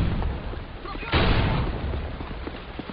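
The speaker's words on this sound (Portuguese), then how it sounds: "Atirando uma granada de mão." A hand grenade explodes in the video game Modern Warfare 2, a single loud, broad boom about a third of the way in, rising over steady battle noise and fading out.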